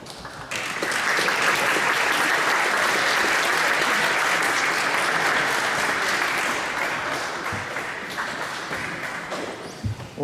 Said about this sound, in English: Always lovely to be greeted by a round of applause.